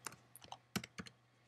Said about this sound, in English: So I'm going to type public void clear level.